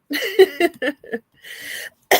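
A few harsh, close coughs in quick bursts, with a brief pause before a final sharp cough.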